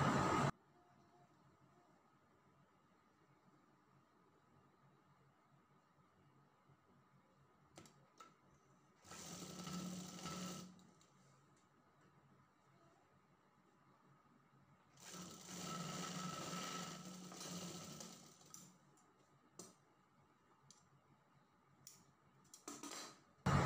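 A sewing machine stitches a folded sleeve seam along a marked line, running in two bursts of a few seconds each with quiet handling between them.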